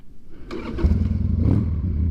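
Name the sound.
Sportster motorcycle engine starting and revving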